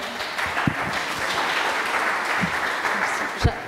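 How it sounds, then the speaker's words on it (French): Audience applause following an academic doctoral talk, a steady wash of clapping filling the room throughout, with a few sharper individual claps standing out near the start, middle and end. "Merci pour les applaudissements."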